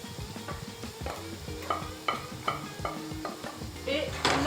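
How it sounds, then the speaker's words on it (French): A cooked mixture of squid tentacles, chorizo, onion and garlic is stirred in a pan, with soft regular scraping strokes over a low sizzle, close up and without speech. "maintenant que c'est cuit, on va tout mélanger"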